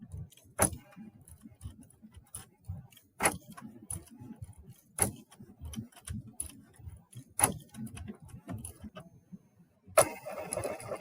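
A Cricut machine writing words on a card with a pen makes soft, irregular mechanical whirs and sharp clicks as the carriage moves and the pen taps, quiet and close with no speech, ending in a louder burst of motion.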